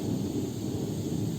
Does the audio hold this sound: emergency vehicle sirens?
no